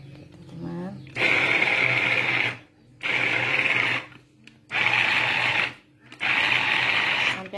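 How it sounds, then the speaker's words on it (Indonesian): A kitchen blender purees steamed, softened red beans in four loud whirring bursts, each a second or two long, with short pauses between them. "kacang merah yang sudah kita kukus, sudah empuk, kita blender ya teman-teman"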